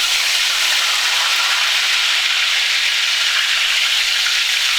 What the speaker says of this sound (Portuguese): Eu acho que vocês estão até ouvindo esse barulhinho da nossa fritura.